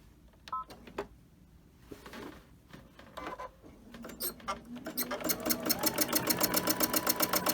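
A sewing machine free-motion quilts fabric for a bag, starting with scattered taps and short bursts, then running steadily in a fast, even rapid stitch rhythm that grows louder toward the end.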